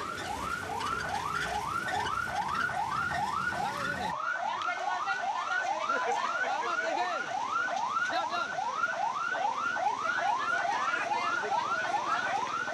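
A flood warning siren by a river sounds as a steady loud repeating wail, its pitch rising and falling in quick regular cycles, with no talk over it.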